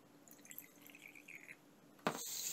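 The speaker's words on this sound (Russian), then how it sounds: "берем обычный ацетон, баночку, в моем случае стеклянную, и наливаем пол баночки ацетона примерно" Acetone pours into a glass jar, filling it about halfway; a soft trickle with light drips comes first, then a louder, steady splashing stream takes over near the end.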